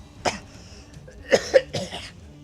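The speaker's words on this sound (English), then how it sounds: "That cough is only mostly genuine." A few short coughs, one near the start and a pair of quick ones a second later, close and fairly quiet over a soft background.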